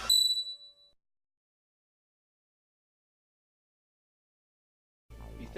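A phone ringtone gives one loud, bright metallic chime that rings out and fades within about a second. Silence follows, then a faint low background noise returns at the end.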